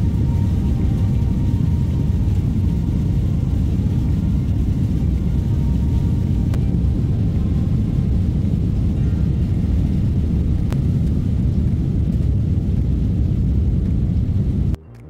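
A passenger airplane takes off on a flight to Paris, heard from inside the cabin as a loud, steady low roar of engines and rumble that holds throughout and drops off abruptly at the end.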